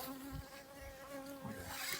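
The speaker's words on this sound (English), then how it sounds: "It's a bee. It's like a drone bee." A large, black-bodied drone honeybee buzzing while bees are moved in Venjan, Sweden, giving a faint, continuous hum with slight rises and dips in pitch.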